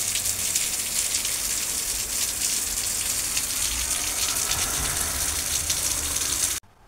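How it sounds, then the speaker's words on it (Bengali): Heavy rain pours in a loud, unbroken roar close by, a dense hiss of drops on surfaces that cuts off abruptly at the end, with no talking. "প্রচণ্ড বৃষ্টি হচ্ছে, বৃষ্টির শব্দে কিছুই শোনা যাচ্ছে না।"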